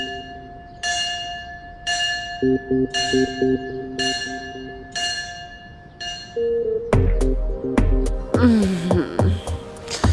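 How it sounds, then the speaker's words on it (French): A large church bell tolls six slow, evenly spaced strokes, each ringing out with a long decaying tail, while a low sustained tone sits beneath; the tolling then gives way to a louder, busier jumble of sounds. "J'en ai assez de cette cloche."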